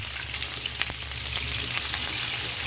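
Onion going into hot oil in a home kitchen pan for a cucumber and egg dish, giving a steady broadband sizzle with a few small crackles, close and continuous with no talking.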